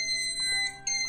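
Electronic beeping alarm from an automatic 36-egg incubator, a steady high-pitched tone that sounds continuously with a brief dip near the end, close and clear with no talking.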